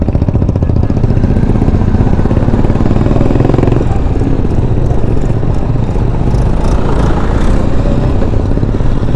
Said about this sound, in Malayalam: ഒരു ലേഡിയാണ് ആ ട്രാക്ടർ ഓടിക്കുന്നത്